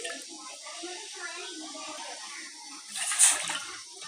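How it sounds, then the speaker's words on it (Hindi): Two cups of water are poured into a saucepan for tea, making a soft, hissing splash that swells briefly near the end, with a faint voice in the background. "सॉस पैन में डालेंगे 2 कप पानी।"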